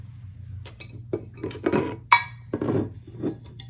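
A ceramic watercolor palette with many wells is set down and handled, giving a series of sharp clinks and knocks at irregular intervals, close and clear, with one brighter ring partway through.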